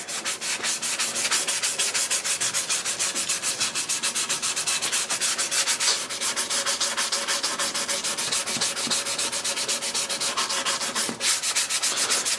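Rhythmic back-and-forth sanding with a soft pad on a color-stained maple guitar top held in a large vise, loud and close, steady rasping strokes repeating evenly throughout with no talk.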